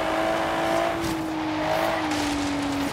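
Porsche Macan driven in Forza Horizon 3, a steady engine drone with a sustained tone that shifts in pitch as it revs, loud and continuous with no talking.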